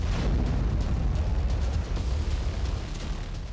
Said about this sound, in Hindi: घातक ड्रोन ने डोनेट्स्क की एक बस्ती में छिपे यूक्रेनी फोर्स और उनके बख्तरबंद पर हमला किया और PTR-80 आर्मर्ड को नष्ट कर दिया